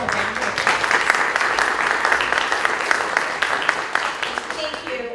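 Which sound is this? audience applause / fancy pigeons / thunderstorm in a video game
audience applause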